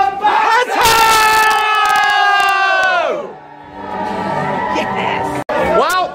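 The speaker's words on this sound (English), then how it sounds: "get ready to scream, cheer, boo, hiss, cry as loud as you possibly can" A pantomime theatre audience at Sutton Arts Theatre screams and cheers loudly on cue, a big sustained crowd shout that fades, then rises again in a second wave of whooping and yelling.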